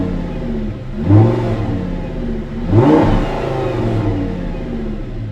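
An Audi R8 V10 revving hard twice, about two seconds apart, each loud rise settling back into a deep, rumbling idle close by.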